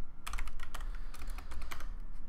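Fast, close clicking of keys on a computer keyboard while coding, an irregular run of light taps over a low background hum.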